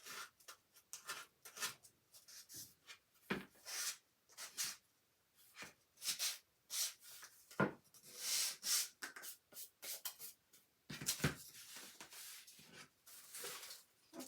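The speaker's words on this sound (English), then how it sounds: "So I'm just sanding all that excess little pieces" Sandpaper rubs in short uneven strokes over a DIY snowman decoration, taking off excess bits. The scratchy, hissing scrapes come in bursts with brief pauses between them, close and fairly soft.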